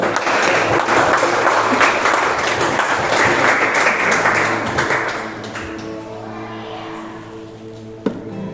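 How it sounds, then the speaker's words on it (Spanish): A congregation at Peniel Church in Cali gives loud, dense applause during a church service, the clapping fading after a few seconds while sustained music continues underneath and a single sharp tap stands out near the end. "Denle un fuerte aplauso al Señor."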